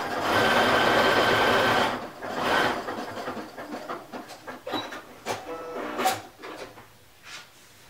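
A sewing machine runs in a steady, loud burst while sewing a lightning bolt stitch on a fabric thumbhole cuff, then slows into short separate clicks and clacks of fabric handling.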